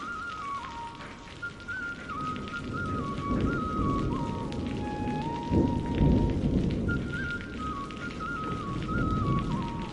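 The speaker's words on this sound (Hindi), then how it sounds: "ये तो बारिश और तेज होती जा रही है, सब कुछ भीग गया।" Steady heavy rain pours down with low rumbling thunder rolling underneath, and a high wavering whistle-like tone drifts over the downpour.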